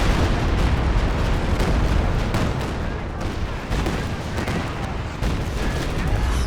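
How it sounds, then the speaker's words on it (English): Calliope rocket barrage in Company of Heroes 2 pounding the center of a battlefield, a dense continuous roar of overlapping explosions and artillery-like blasts at steady loudness throughout. "Rockets aplenty dropping in the center, but not doing much from either side."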